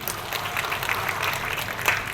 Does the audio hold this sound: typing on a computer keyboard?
no